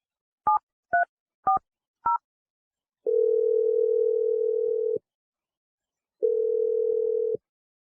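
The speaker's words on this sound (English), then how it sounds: "I'm going to dial her number right now." A telephone number is dialed as four short touch-tone beeps, followed by two long, steady ringback tones separated by a pause, clear and close with no voices.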